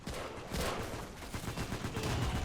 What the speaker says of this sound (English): the machine guns are going to be shooting down a lot of the Marines